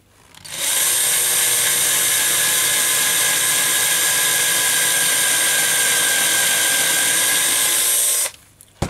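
Small power drill boring slowly into the chassis of a Matchbox Y-14 Duke of Connaught model: a steady, high, whirring buzz that starts abruptly, holds evenly for about seven seconds up close, then cuts off.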